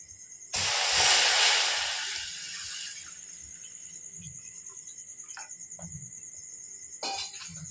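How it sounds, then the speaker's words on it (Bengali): Water pours into a pot for boiling pasta in a home kitchen, starting as a loud rushing hiss that gradually thins and fades into a quieter trickle, with a few soft knocks near the end. "এবারে আমি পাস্তাটা আগে একটু সেদ্ধ করে নেব। তো তার জন্য এখানে আমি দিয়ে দেবো জল।"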